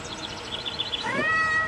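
A young tiger at close range in Pattaya gives a quick series of high, cat-like mewing chirps, then a single longer rising whine, loud and near with no talk.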